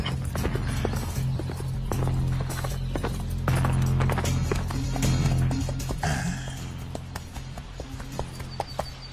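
Horse hooves clip-clop steadily and close by, a continuous run of sharp, regular taps over a low background hum, with no talk over them.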